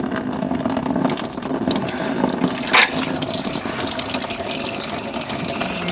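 Coolant pouring out of a Ford Falcon FG radiator into a bucket, a steady close splashing trickle of liquid with faint clinks throughout.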